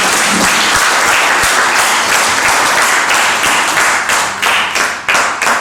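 A crowd at a commercial worm farming business launch applauds young worm farmers, loud dense clapping that holds steady before thinning toward the end.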